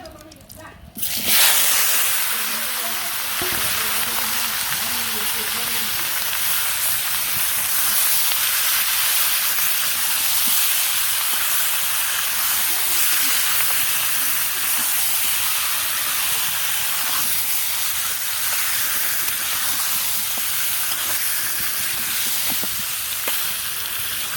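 Meat cooking in a pot over a village clay stove gives a steady, close sizzling hiss that starts after a brief opening and runs unbroken and loud to the end.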